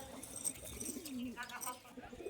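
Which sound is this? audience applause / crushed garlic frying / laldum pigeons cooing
laldum pigeons cooing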